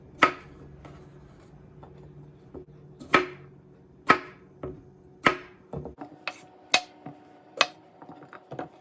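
A knife chops through an English cucumber on a cutting board, trimming off both ends: about nine crisp, close knocks at uneven intervals, with no talking.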